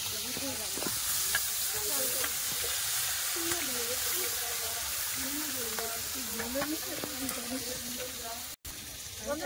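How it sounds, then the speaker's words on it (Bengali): Potatoes and chickpeas fry in oil in a pan with a continuous close sizzle, and a spatula stirs and scrapes through it in repeated strokes, with faint talk at times. "আর আলু ছোলা ভেজে নেবো।"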